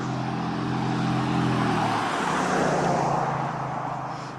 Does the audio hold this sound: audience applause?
no